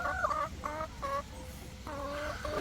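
Hens clucking in a flock of about 150 laying hens at a farm in Saint-François, Guadeloupe, with repeated bursts of nearby clucking and calls rising and falling over a steady low background and no speech.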